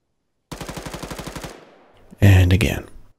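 Rapid automatic gunfire from a modded weapon in the military game ArmA 3: a burst of about a dozen evenly spaced shots, then a louder, heavier blast with a trailing echo, close and sharp.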